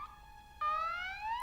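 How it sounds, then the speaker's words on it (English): Electronic alarm siren in the Valkyria Chronicles 4 video game, a steady tone that abruptly shifts into a louder, rising wail, clear and alone. "That's the alarm. Guess the Imperials have popped up."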